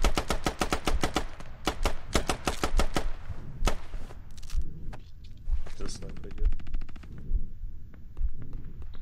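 Suppressive gunfire in the video game Squad on the Al Basrah map: repeated rapid automatic bursts, loud and close, with scattered single shots and distant fire between them and a voice talking under the shooting.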